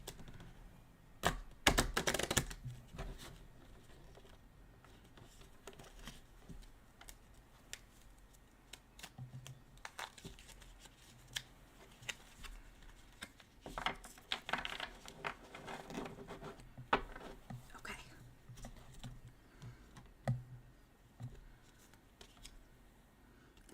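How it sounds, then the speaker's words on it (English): Tarot cards shuffled by hand, with a loud riffling burst near the start, another flurry partway through and scattered soft taps and card slides in between, close and without talk. "And I'm just gonna shuffle one more time."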